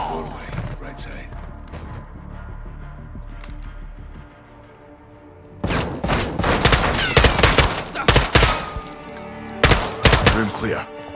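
Bursts of automatic gunfire in Call of Duty: Modern Warfare II, loud and clustered after a quieter opening, with voices talking in between.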